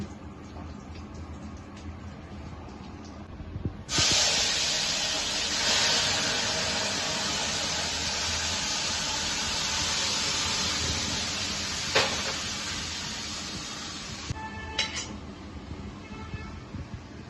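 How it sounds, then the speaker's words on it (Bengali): Ghee poured into a hot pan with dried chillies for a cumin tempering of moong dal with bottle gourd bursts into a loud, steady sizzling hiss that holds for about ten seconds, then cuts off, leaving faint kitchen clatter. "এখন জিরে ফোড়ন দিব। ঘি দিয়ে দিচ্ছে, ঘি।"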